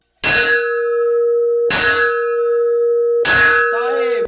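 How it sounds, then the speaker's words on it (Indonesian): At an Islamic boarding school, a loud bell signals time to enter the mosque: three clanging strikes, each ringing on with a sustained metallic hum between them, close and clear, with no voices. "Itu bel masuk masjid, biasanya emang lari-larian"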